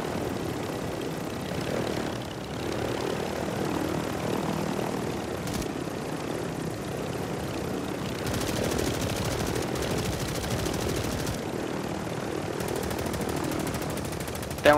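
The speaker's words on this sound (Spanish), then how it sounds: "Tengo un helicóptero aquí" A helicopter's rotor and engine in an online shooter video game, droning loud and steady throughout with occasional sharper bursts in the mix. No voices.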